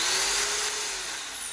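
Belt sander model 9032 running at its lowest of six speeds, a steady high-pitched whine that holds close and loud throughout without talk.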